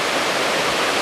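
Hidden Falls in Luisiana, Laguna, heard as a steady, loud rush of falling water, close and continuous with no voices.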